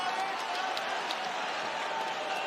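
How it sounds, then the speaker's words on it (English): MMA arena crowd cheering and applauding after a takedown, a steady wash of roaring voices with a few scattered claps and shouts rising above it. "The crowd responds beautifully"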